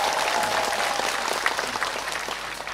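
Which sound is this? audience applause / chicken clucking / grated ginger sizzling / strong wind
audience applause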